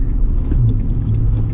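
Acura NSX engine blipping during manual rev matching, a steady close low rumble with slight rises in revs, no voices.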